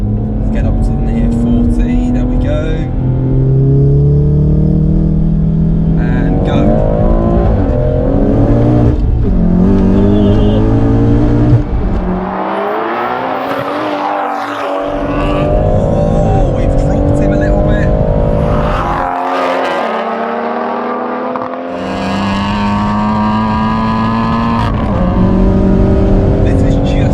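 Two tuned 500bhp cars, a BMW M140i and a Golf R, accelerate hard in second gear during a drag race, engine roar rising steadily under continuous talk inside the car.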